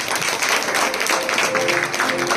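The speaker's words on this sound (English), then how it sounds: "Please clap for her." Brief burst of audience clapping at a school annual day celebration for a retiring teacher, fairly loud and continuous with a faint voice or tone underneath.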